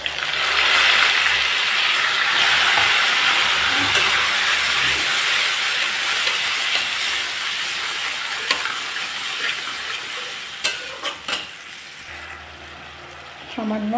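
Spices tipped into hot oil over potatoes fried until reddish for dhokar dalna, giving a steady, loud hiss of sizzling that runs throughout, with a few sharper crackles near the end.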